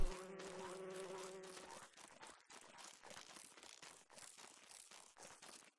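Bees in the video game Don't Starve Hamlet give off a faint, continuous insect buzz with soft fluttering wingbeats, a steadier tonal drone at first that thins into quieter scattered buzzing.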